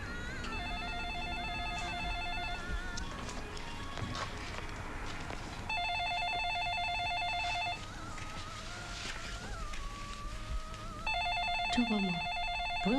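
A telephone rings in repeated electronic bursts, three separate ringing spells with short pauses between them, fairly clear indoors against a faint background.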